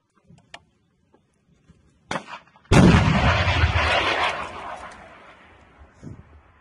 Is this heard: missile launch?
yes